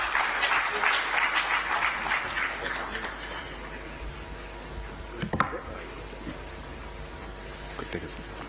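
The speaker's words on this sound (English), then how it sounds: "Give him another round of applause." At a medical doctors conference, an audience claps after a talk, the applause strongest at first and then thinning out and fading over the following seconds, leaving quieter room sound.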